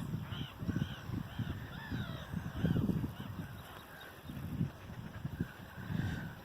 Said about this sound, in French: qu'est-ce que ça fait du bruit, les mouettes là